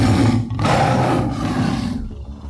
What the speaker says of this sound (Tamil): சிங்கம்